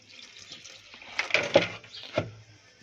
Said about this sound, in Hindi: पानी डाल रहे हैं।